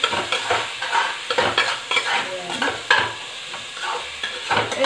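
Chopped onions frying in a little oil for chole, with steady sizzling and repeated scraping stirs of a spatula against the pan, close and fairly loud with no talk.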